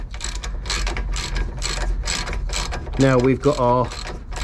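Ratchet tightening a bolt on a Nissan 350Z banana arm, a close run of rapid, evenly spaced clicks from repeated strokes, with someone briefly talking over it.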